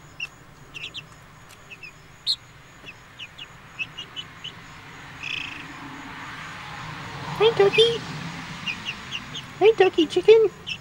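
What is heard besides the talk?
chickens clucking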